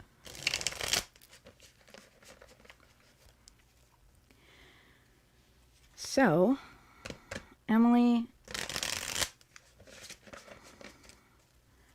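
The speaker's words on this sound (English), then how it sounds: "I'm shuffling for you." Tarot cards are shuffled in short rapid riffles and soft patters, close to the microphone, in bursts between stretches of someone speaking, with a few louder crisp shuffles near the start and around the middle.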